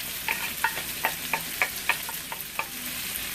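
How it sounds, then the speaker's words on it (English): Steak, rice and vegetables sizzle and fry in a pan while being stirred, a steady hiss broken by regular sharp scraping clicks of the utensil roughly every third of a second. "Continue to sizzle, sear, and fry."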